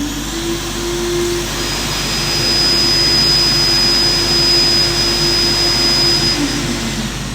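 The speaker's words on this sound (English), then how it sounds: "When turning on the vacuum motors, please turn on one at a time" Vacuum motors on an Alltec Evolution cleaning machine run with a steady, loud whine and a constant airflow roar, holding at one level from start to finish with no talk over them.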